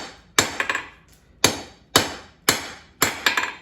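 Hot steel is hammered into a square taper while forging a dinner triangle: six ringing hammer blows at a steady pace, several followed by quick lighter bounce taps on the anvil, close and loud with no talk.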